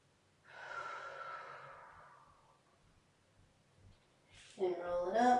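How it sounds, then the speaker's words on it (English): Deep breathing during a yoga session: one long, soft exhale that fades away gradually, followed after a pause by a short breath and the start of a voice talking. "Deep breath in"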